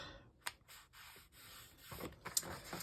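Seal adhesive is applied to a handmade paper card, heard as soft, close rubbing and scraping with a few light taps and clicks, quiet and with no talking.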